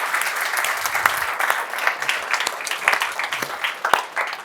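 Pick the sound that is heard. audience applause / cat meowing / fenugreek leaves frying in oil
audience applause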